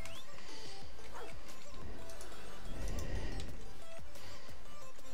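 A dog barks in the mobile game Call of Duty Mobile, several short yips and barks mixed with gunfire-like crashes and game noise, loud and busy throughout.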